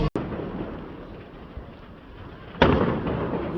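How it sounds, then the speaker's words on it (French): Firecrackers crack outdoors during Spring Festival on Nan'ao Island, Guangdong, China: one sharp bang at the start, then distant rumbling and a second loud burst later. "Et ça continue les pétards dans la période de la fête du printemps, ça ne s'arrête pas."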